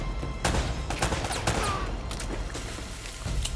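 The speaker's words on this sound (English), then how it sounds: "Why are they shooting at me?" Enemies open fire in Uncharted: Drake's Fortune Remastered, with dense, rapid bursts of gunshots crackling back and forth throughout, loud and continuous, layered over game ambience.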